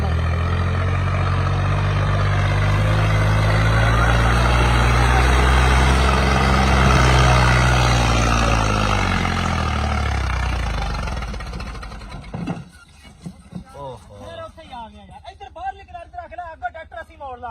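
An overloaded tractor engine runs loud and close with a heavy, steady rumble, then drops away after about twelve seconds, leaving quieter, uneven sounds.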